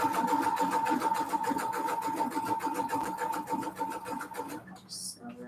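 A sewing machine stitches paper for a sunflower junk journal in a fast, steady mechanical run, loud and close, stopping abruptly near the end.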